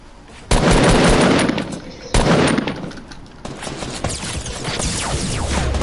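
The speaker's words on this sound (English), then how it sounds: "How did you shoot me through my ramp?" Loud gunfire in the video game Fortnite, two heavy bursts of rapid shots close up followed by a denser run of quicker rounds, with no talking over them.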